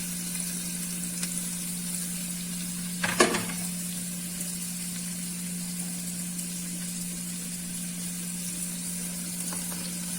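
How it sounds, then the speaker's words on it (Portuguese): Onion goes into a very hot pan for a breakfast dish, giving a steady broadband sizzle over a constant low hum, with one brief louder clatter of stirring midway and no voices. "A panela já tá quente, tá?"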